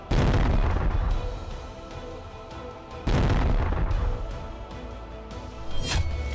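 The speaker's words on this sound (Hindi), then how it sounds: "जेलेंस्की ने रूस के विराट शिप पर बड़ा धमाका किया है।" A large blast from a drone attack on a Russian ship in the Black Sea near the Turkish coast, two heavy booming bursts about three seconds apart, each with a long rumbling tail, loud and close with no talk.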